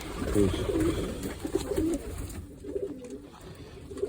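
Pigeons coo softly nearby in low, throaty warbling calls, with a faint voice murmuring in the background.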